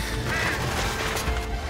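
Birds in the video game Unravel, squawking quacking calls over a dense, loud game soundscape, continuous through the short stretch.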